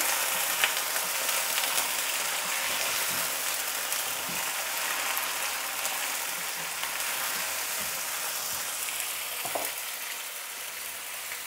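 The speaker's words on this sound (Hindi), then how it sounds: "मीडियम टू स्लो हीट में हम इसको अच्छी तरह से फ्राई करेंगे" Chicken pieces for nihari fry in oil over medium to slow heat, giving a steady, dense sizzle with faint pops throughout and no talking.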